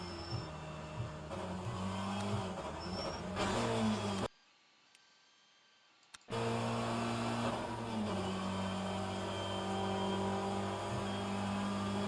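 Race car engine in a racing video game at the Hungaroring circuit, revving loud and steady with pitch shifts as it accelerates, cutting out abruptly for about two seconds before roaring back at full volume.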